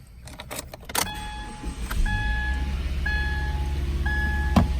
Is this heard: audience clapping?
no